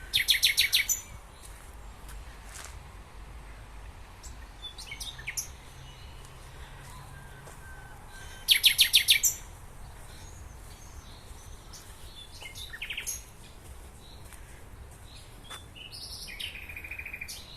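Bursts of bright bird chirping and song come and go over a quiet park background in Germany, with a few louder trilling phrases standing out.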